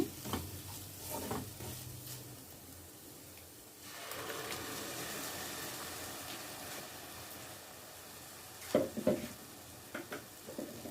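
Onions, green chillies and salt fry in a pan as they are stirred, with a soft, steady sizzle and faint scraping, then a few louder clinks of the utensil against the pan near the end.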